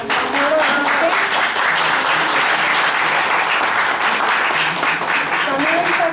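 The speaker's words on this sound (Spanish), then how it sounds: "Pues un aplauso para nuestro compañero." A conference audience gives a speaker a sustained round of applause, dense and even, from many hands clapping at once for several seconds.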